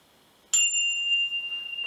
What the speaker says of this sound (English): I did have this bell on it as well.